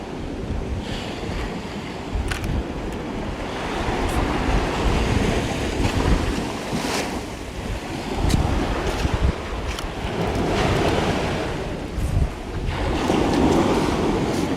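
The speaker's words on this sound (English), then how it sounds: "I can't really see the waves coming up, so that does not put me at ease" Ocean waves surge and wash against rocks on a beach, a continuous roaring rush that swells and recedes, buffeted by heavy wind noise on the microphone.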